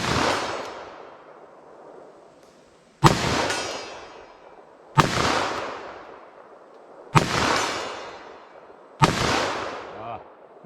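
Five heavy magnum revolver shots with hot XTP handloads, .357 Mag 110 gr or .44 Mag 180 gr, fired single action, each a loud close blast with a long echoing decay, spaced about two seconds apart.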